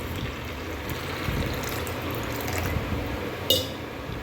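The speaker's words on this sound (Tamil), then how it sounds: "இப்போ இதில் தண்ணி ஊற்றி நல்லா ஊற வச்சிடலாம்" Water pours steadily into a bowl of rinsed lentils with a continuous splashing rush, close by, with a small clink near the end.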